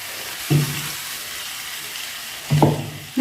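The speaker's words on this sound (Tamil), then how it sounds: "நல்லா கிண்டி விட்டுக்கலாங்க" Cauliflower frying in a pan with ground fennel, coconut and a little water is stirred twice, each pass giving a brief scraping sizzle over a low steady bubbling.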